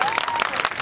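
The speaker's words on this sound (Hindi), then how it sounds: "जोरदार तालियों से इनका स्वागत किया जाए।" Loud clapping from a school audience at a Republic Day event at Sihora Bohani high school, welcoming a chief guest; dense, steady applause fills the short moment, with a faint tonal whistle or voice running underneath.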